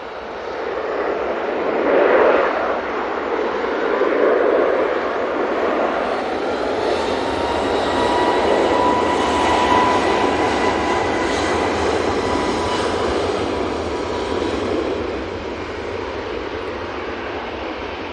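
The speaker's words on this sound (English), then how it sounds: "A321neo on the roll, and that's off to Enfield" An Airbus A321neo on its takeoff roll at Manchester Airport, a loud, steady broadband jet roar swelling and easing over about eighteen seconds with a rising engine whine, no talk.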